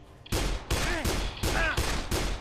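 Pistol shots ring out in the Dead Island video game, five or six loud, close reports fired in a quick, fairly even sequence, each with a short ringing tail.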